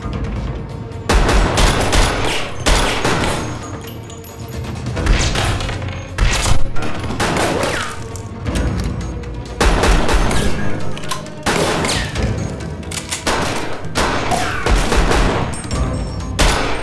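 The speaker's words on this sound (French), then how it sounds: "On lui a tiré dessus." Gunfire in an action film, dense bursts of shots and heavy thuds forming a continuous loud barrage with a few brief lulls across the whole stretch.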